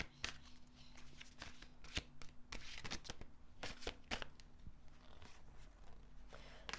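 Tarot cards are shuffled over and over, quiet crisp riffles and flicks in quick irregular bursts, close up with no voices.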